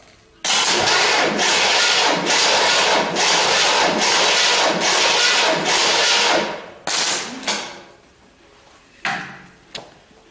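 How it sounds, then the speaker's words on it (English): An engine cranking over on its starter during a compression test: a steady, rhythmic churning runs loud and close for about six seconds, then stops, followed by a few short bursts of cranking. "all I'm going to do is provide a ground to crank over the engine several times until the compression gauge stops going up"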